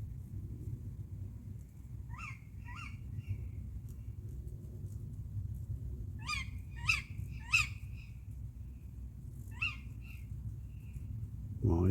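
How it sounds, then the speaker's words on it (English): Owls call from a nearby tree at an autumn carp fishing lake, giving several sharp hoots and calls in small clusters over a steady low rumble of outdoor background. "Nice to hear the owls."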